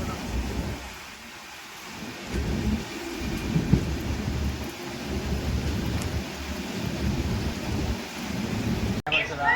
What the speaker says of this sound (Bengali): এইদিকে আবার বৃষ্টি হচ্ছে বিশাল বৃষ্টি হচ্ছে